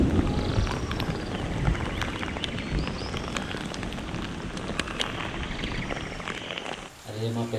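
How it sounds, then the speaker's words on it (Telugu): Heavy rain falls steadily over farm fields, a dense, loud hiss of patter that holds throughout, then cuts off abruptly near the end into a brief different sound. "అయ్యో వర్షం మాత్రం చాలా బాగా పడుతుంది."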